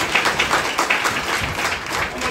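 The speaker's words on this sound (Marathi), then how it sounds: "विचारा का टाळ्या वाजवल्या" Brief burst of audience applause at a leadership development program session, dense close clapping from a group without any speech over it.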